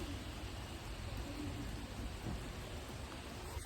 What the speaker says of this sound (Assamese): বৰষুণ আজি মানে খুব বৰষুণ দিছে